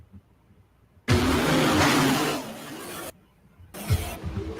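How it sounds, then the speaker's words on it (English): A tractor engine at a tractor pulling event roars loudly for about two seconds, cuts out, then rumbles again briefly at a lower level. "it's just tractor sound."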